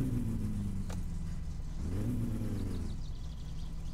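A lowered Volkswagen Saveiro in My Summer Car idles with the choke pulled, a steady low engine drone that swells in a brief rev midway before settling back to a rumbling idle, close and continuous.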